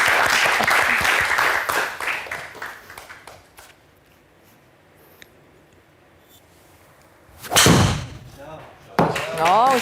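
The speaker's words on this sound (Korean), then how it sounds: "응원의 박수 한번 주세요." A short burst of applause from a small indoor audience at a golf lesson, fading into quiet, followed by a sharp impact thump and talking.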